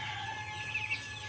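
Chickens kept in a roughly 2.5 by 2 metre coop, a sustained crowing or calling tone with a few clucking rises, close by over a low steady background hum.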